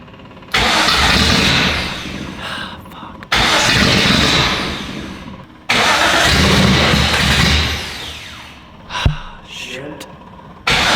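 A Datsun 280Z, long abandoned, cranks in several loud bursts of roughly two to three seconds each, its starter grinding as the engine tries to catch without firing. Short pauses separate the attempts, and a brief sharp sound and a gasp follow them.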